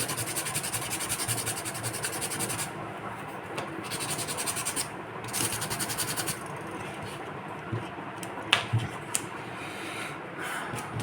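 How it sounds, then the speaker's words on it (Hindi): Sandpaper rubbing on a handmade locomotive model part, a steady close scratching rasp that continues without a break and fades slightly partway through, with no talking. "बाकी इसको हम थोड़ा सा सैंड पेपर से"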